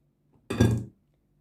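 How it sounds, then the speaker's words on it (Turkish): Four eggs drop into a mixing bowl while preparing dough for fluffy Turkish poğaça pastries, a single soft thunk with a short wet slide, close and otherwise quiet. "İlk önce 4 tane yumurtamızı ilave ediyoruz."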